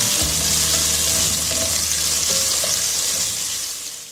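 Ginger paste and green chilies fry in hot oil with whole spices while being stirred, a loud, steady sizzle that fades slightly toward the end, with no talking.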